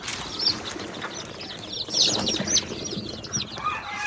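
Chickens on a farm, including local desi and Tiger-breed birds, clucking and calling in short bursts against a busy background of other bird sounds, fairly close.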